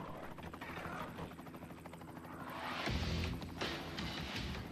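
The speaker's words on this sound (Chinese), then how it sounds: "完成了攻击任务的直升机很快返回机场" A military attack helicopter from an air assault brigade flies back toward the airfield, its low rotor thrum steady at first, then growing louder and closer midway.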